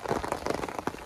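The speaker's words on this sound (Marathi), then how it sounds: "जाम पाऊस आहे पावसाला का आज पाऊस थांबायचं नाव नाही घे" Heavy rain pours down, a dense, close patter of drops striking surfaces in an unbroken roar.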